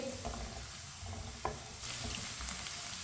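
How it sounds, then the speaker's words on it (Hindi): Onions frying in a pan until lightly browned, a steady soft sizzle with occasional stirring scrapes, fairly quiet and continuous. "प्याज को हल्का सा ब्राउन कर लेंगे।"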